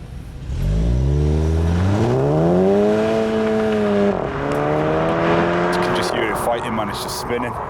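Audi S5, Golf GTI or classic 1960s VW Beetle launching hard with traction control off, the engine revving up through a rising, climbing drone as the wheels spin, loud and close throughout.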